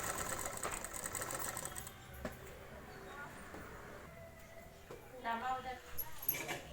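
Sewing machine stitching a broad round neckline on a blouse, a fast whirring run of stitches that pauses and restarts, fairly faint.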